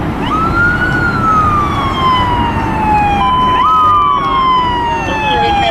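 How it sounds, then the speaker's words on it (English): A toy police car's siren wails in long, rising and falling electronic sweeps, fairly loud and steady over a noisy background hum. "Wow, this is a police car."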